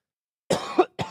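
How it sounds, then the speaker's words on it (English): A single person coughs twice close to the mic, a rough two-part cough followed by a shorter second burst after a brief silence. "Should have got me coughing."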